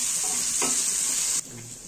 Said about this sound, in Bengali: এটা নাড়িয়ে চাড়িয়ে ভালো মতো লাল করে দিতে হবে।